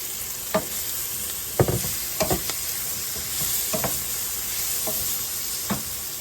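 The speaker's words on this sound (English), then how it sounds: "we're going to add the sausage back in" Sausage and pasta sizzle together in a pan under a constant close hiss, while a utensil scrapes and clacks against the pan in several sharp bursts.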